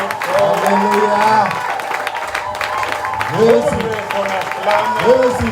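A church congregation at a Sunday service applauds and acclaims loudly, with clapping and cheering mixed with sung or chanted voices that rise and fall in waves.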